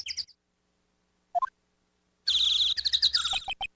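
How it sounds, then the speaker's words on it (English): A girl's chirpy bird-call voice effect from the Phoenix Wright: Justice for All game, in Kurain Village: a brief chirp, a lone rising tweet, then a rapid, bright flurry of warbling chirps ending in a few sharp pips. "She apparently communicates in bird calls."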